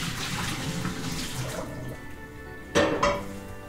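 Boiled water is poured out of a kitchen pot of orange slices, a steady splashing rush that stops. Two sharp metallic clunks of the pot follow near the end.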